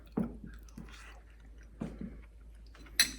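A bite of ooey gooey butter cake is chewed close up in a few soft, wet squishing bursts with small pauses between, quiet and without talk.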